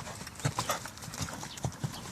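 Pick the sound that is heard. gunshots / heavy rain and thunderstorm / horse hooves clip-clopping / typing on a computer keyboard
horse hooves clip-clopping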